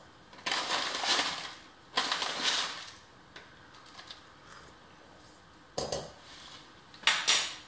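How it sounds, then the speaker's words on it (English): Loose leaf English breakfast tea spooned into a teapot with a stainless steel mesh infuser, four or five quiet, crisp metallic scrapes and rustles spaced a second or two apart, close and alone. "We're going to pop 2 teaspoons of English breakfast into our teapot."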